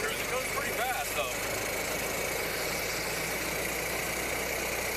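A 1927 Ford Model T engine running steadily at a constant mid-pitched drone, close and continuous, with a brief faint voice-like sound early on.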